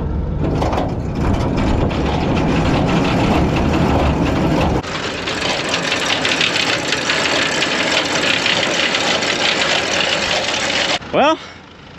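A tractor engine runs steadily while an engaged manure spreader spins its mechanism, a loud continuous mechanical drone that shifts partway through; a brief rising whine near the end.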